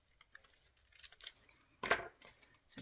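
Scissors snipping through paper while trimming a cut-out figure for a collage: a few soft, scattered snips, then one louder, crisp cut near the end, close and with no talk.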